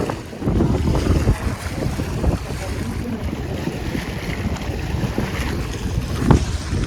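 Steady wind gusting across open water at Bor lake (Bor talav) in Bhavnagar, a continuous loud rumbling roar buffeting the microphone close up, with faint hints of lapping water and boats and no talking.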